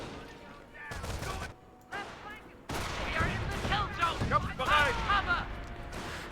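A .30 cal machine gun in the real-time strategy game Company of Heroes firing bursts of rapid gunfire amid scattered battle noise, with voices talking over much of it.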